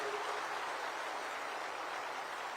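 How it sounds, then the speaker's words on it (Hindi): An audience claps steadily in a large hall during a speech event, a dense, even wash of applause throughout with no voices over it. "मैं आज सबको विनंती करना चाहता हूं कि बहुत जोर से ताली बजाकर इसका स्वागत करिए।"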